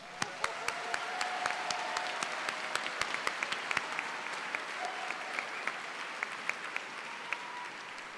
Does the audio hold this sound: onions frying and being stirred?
no